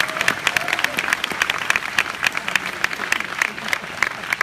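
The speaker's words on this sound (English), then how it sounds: "So how about a round of applause one more time for the class of" Graduating class of 2015 applauded by the audience at a Harker High School baccalaureate in San Jose, California, a sustained crackle of many hands clapping, fairly loud and steady, with some crowd murmur mixed in.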